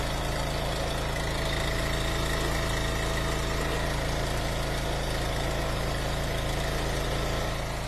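A gas engine on a firewood log splitter idles steadily throughout, a constant loud drone with rumbling vibration, working through half a cord of ash rounds.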